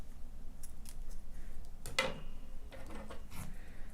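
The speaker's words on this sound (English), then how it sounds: "then chain 1 and cut your yarn" Scissors snipping crochet yarn, heard as a single quiet, crisp cut near the middle against faint background noise, with no talk.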